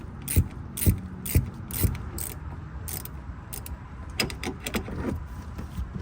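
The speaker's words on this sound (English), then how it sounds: "They really don't take that much force, so I like to do it with an open wrench." A Tahoe's control arm bolts are tightened by hand with an open-end wrench, a series of short metallic ratcheting clicks and clanks, sharp and evenly spaced at first, then quicker and lighter, close and alone.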